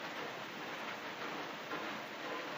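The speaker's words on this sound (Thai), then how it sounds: "อากาศดีพี่น้องฝนตกครับฝนตก" Rain falls in a steady, even hiss for the whole short stretch, a dense broadband patter with no voices.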